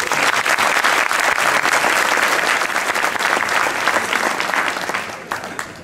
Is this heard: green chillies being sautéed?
no